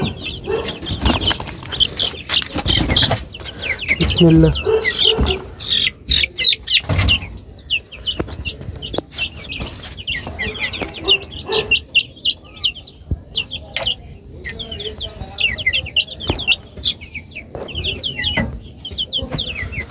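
A pair of Brahma hens and their chicks are kept indoors, giving close, repeated clucks and a busy run of high peeping calls, with handling noises and scattered talk.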